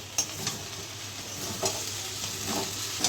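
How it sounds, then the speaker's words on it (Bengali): A spoon stirs dalia upma with fried paneer in a hot pan, giving faint scraping strokes at irregular intervals over a soft, steady sizzle. "ভালো করে নেড়ে নেব"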